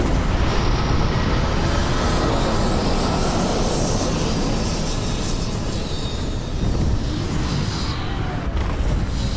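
A spaceship landing in Starfield, a loud, continuous engine roar and rushing rumble that holds steady throughout with no talk over it.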